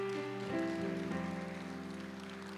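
A church congregation applauding: steady, dense clapping from many hands, fairly distant, over sustained musical chords with no talking.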